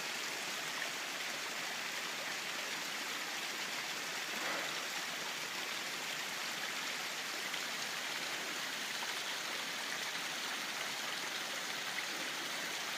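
A mountain waterfall splashes onto ice-covered logs and rocks in a continuous, broadband rush of water, steady and unbroken, heard alone without talking.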